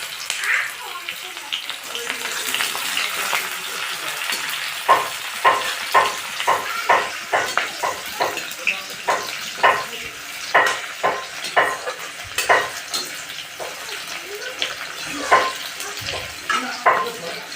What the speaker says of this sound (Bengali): পেঁয়াজটাকে ভালো করে একটু ভেজে নেব, লাল লাল করে ভেজে নেব।